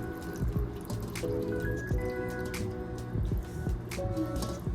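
Water pours steadily into a glass container with vinegar and sugar for a pickling brine, with a trickling, dripping quality and ringing tones that shift as the vessel fills.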